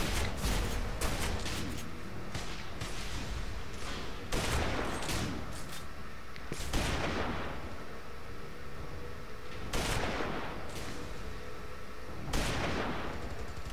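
A Sentinel BXT1 rifle in the video game Tribes: Ascend fires about eight loud, sharp shots at a steady, fairly quick pace, each one ringing out with a short echoing tail over a constant background hum.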